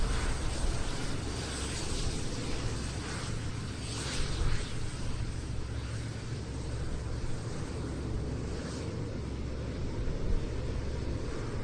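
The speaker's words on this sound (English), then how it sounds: "Hearing in the background though, Jordanian Air Force Hercules." Jordanian Air Force C-130 Hercules at an airshow, a steady broadband turboprop roar holding throughout with a low droning rumble, fairly distant and continuous.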